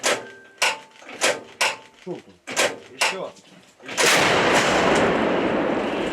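Several sharp, heavy booms from an old 1947 artillery gun in quick succession at a frontline position near Serebryansky forest, followed by a roaring blast that lingers, loud and close; a voice briefly calls the shot.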